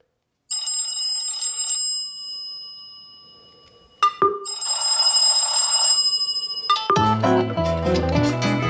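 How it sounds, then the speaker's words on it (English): A Cubot X9 smartphone plays its voice call ringtone: a bright electronic ringing pattern in short repeated bursts, then a melodic tone sequence, fairly close and clear with no talk. "Let's go into general, voice call ringtone,"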